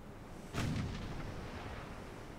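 A warship's naval guns fire in a video game as a single deep, booming shot that rings out and fades slowly, faint and distant.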